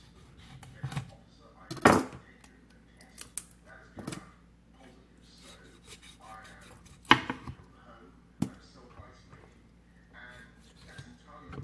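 A knife cuts through a whole chicken on a board, jointing it into frying or smoking pieces; a few sharp chopping knocks and cuts land irregularly against a quiet background, close and fairly loud.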